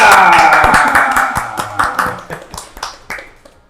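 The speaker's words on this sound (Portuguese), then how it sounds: "vamos receber com a salva de palmas, Maida!" Applause from a small audience welcoming a guest named Maida on a Brazilian podcast set, fairly close and loud at first, then thinning into scattered, separate claps that fade over a few seconds.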